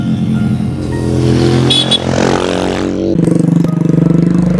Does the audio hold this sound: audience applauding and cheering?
no